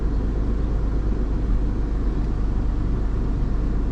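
An Alfa Romeo Giulia Quadrifoglio idles after a spark plug replacement, giving a steady, close low rumble with an even pulse and no voices.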